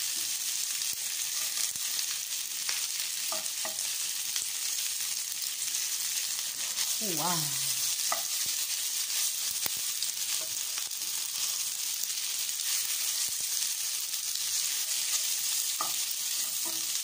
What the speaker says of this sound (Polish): Dobra, elegancko się smaży.